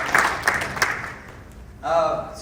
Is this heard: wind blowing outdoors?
no